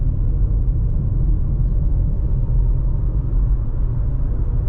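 Steady low rumble of road and wind noise inside a 2023 Subaru Forester Premium while driving, an even, muffled drone with no talking.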